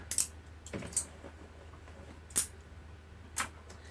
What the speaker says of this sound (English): take my project out of the hoop and take all of my magnet pins off